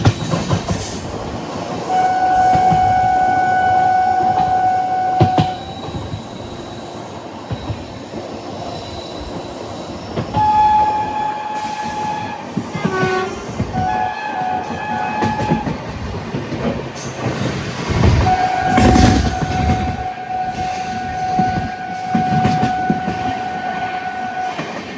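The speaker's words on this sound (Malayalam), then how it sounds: "ജയ്പൂരിന് മുമ്പുള്ള ഫുലേറ ജംഗ്ഷൻ എന്നൊരു സ്റ്റേഷൻ സ്കിപ്പ് ചെയ്തുകൊണ്ടിരിക്കുകയാണ്." A nonstop train runs through Phulera Junction near Jaipur, with a loud continuous rumble of wheels, rhythmic clickety-clack, long horn blasts and squealing wheels heard from on board.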